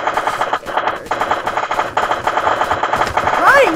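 Rapid, continuous gunfire in a Minecraft zombie-survival mod, loud and dense with a steady stuttering rhythm, as game sounds and a short rising whine surface near the end.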